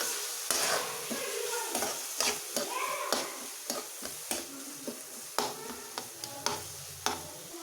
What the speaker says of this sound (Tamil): உருளைக்கிழங்கை சேர்த்துட்டு நல்லா கலந்து விட்டுக்கோங்க.